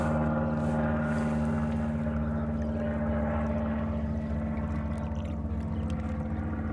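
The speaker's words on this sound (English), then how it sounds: "excuse me if you hear that plane, I'm gonna let it pass." An airplane passes overhead, a steady low droning rumble that holds at moderate loudness for several seconds with no talk.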